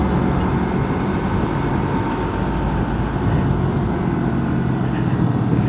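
Heavy road noise as a truck is overtaken on a road near Tanjung Priok, Jakarta: a loud, steady engine and tyre roar that stays constant throughout, with no talk.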